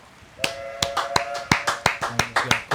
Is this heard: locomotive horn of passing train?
no